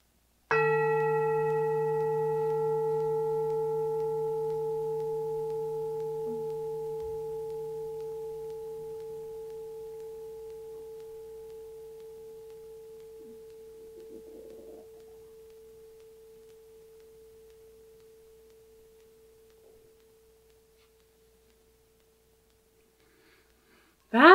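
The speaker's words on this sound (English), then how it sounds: "I'm going to play the singing bowl one more time." A singing bowl is struck once and rings with a pure, steady tone that slowly fades over about twenty seconds into silence.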